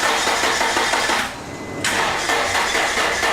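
A 1991 Acura Integra with a weakening battery cranks its engine in a loud, continuous grinding churn that drops briefly, then resumes just as strongly without catching, heard up close.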